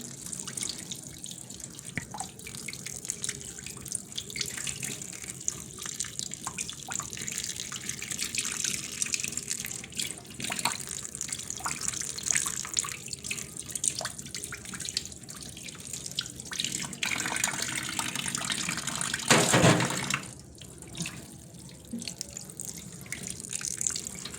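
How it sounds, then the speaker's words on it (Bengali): Flower petals being washed clean under a running kitchen tap, steady splashing water into a sink with drips and a louder gush near the end, no talking. "ভালো করে পরিষ্কার করে ধুয়ে নিই"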